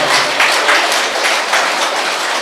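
A crowd at a meditation festival gathering in Gudivada breaks into loud, dense applause, a steady wash of many hands clapping at once with no voices over it.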